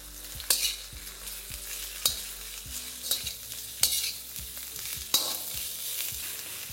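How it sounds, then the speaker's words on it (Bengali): Carrot and cabbage are stir-fried over a high flame for garlic prawn noodles: a steady close sizzle runs throughout, broken by sharp, rhythmic scraping strokes of the spatula roughly every second. "এবার ফ্লেমটাকে হাই করে এটাকে ভালো করে ভেজে নিন।"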